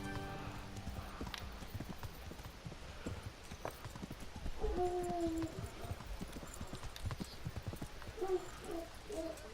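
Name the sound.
horse hooves clip-clopping in video game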